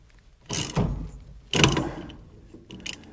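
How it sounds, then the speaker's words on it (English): A wrench ratchets while a new steering wheel is installed, giving two loud mechanical bursts of clicking and scraping about a second apart, then a short, sharp rattle near the end, close up with no talking. "Okay, now we need a wrench for that."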